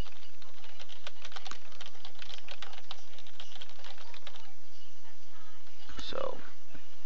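Computer keyboard keys tapped rapidly while playing a SNES game on a PC, a dense burst of clicks that thins out, then a brief louder knock near the end.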